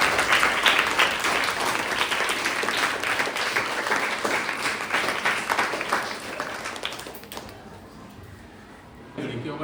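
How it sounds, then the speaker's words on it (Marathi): A school audience applauds to welcome a guest on his birthday, a dense, loud burst of many hands clapping that carries on for several seconds before tailing off abruptly. "आपण टाळ्या वाजवून त्याचं स्वागत करूया"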